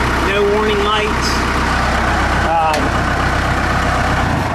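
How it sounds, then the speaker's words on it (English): A 2003 Case 40XT skid steer loader with a 60 hp Cummins diesel engine idles loudly and steadily, a constant close rumble, while a person talks over it. "We'll start it here and show that there's no warnings."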